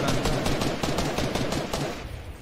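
Rapid automatic gunfire in the video game Fortnite, a close, loud string of evenly spaced shots firing steadily for a couple of seconds.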